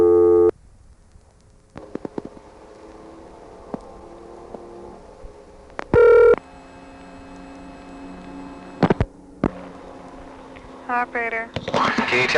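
Telephone line tones on a 1976 Conestoga Telephone exchange in Morgantown, Pennsylvania: short steady beeps and bursts of dialing tone over a constant mains hum, with loud clicks and a brief warble near the end.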